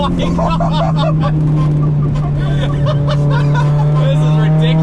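A steady, loud engine drone fills the cabin of an 800-wheel-horsepower Mitsubishi Evo 8 under way, holding a constant pitch while a person talks and laughs over it.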